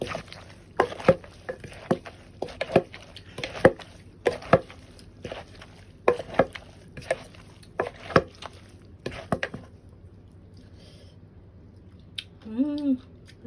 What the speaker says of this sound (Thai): ตันนี้ตำส้มตำปลาร้าค่ะ